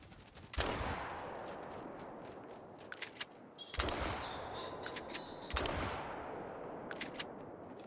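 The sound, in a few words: gunshots at flushed birds in theHunter Call of the Wild video game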